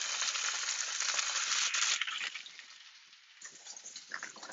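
Pork hits a hot pan and sizzles loudly, a dense hissing fry that quiets after about two seconds and then crackles on more faintly.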